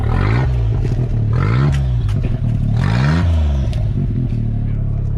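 A car engine idles with a rough, throaty rumble and gives a few quick rev blips, loud and close.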